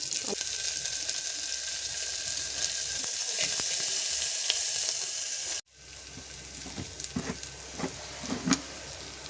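Onions, cumin, mustard seeds and green chillies frying in hot oil, a steady loud sizzle that cuts off abruptly partway, then resumes quieter with occasional crackles and pops.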